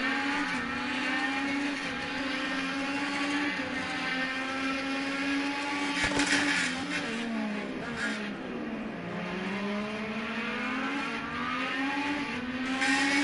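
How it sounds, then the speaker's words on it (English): An IndyCar race car engine screams at full throttle from an onboard position during Indy practice, a loud sustained howl whose pitch dips and climbs again midway as the car comes through a corner. "He's got that engine all the way screamed out."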